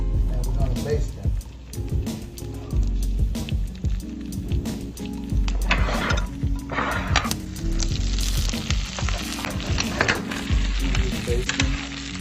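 Rosemary garlic steaks sizzle steadily in a hot pan as they are basted, a continuous frying hiss under talking and some background music.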